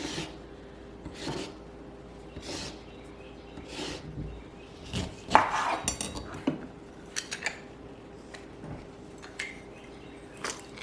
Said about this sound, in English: Before I juice the lemon, I'm actually gonna go ahead and put some of the zest in.